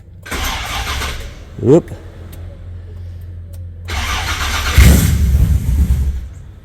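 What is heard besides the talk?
car engine starting after Lexus LS hybrid swap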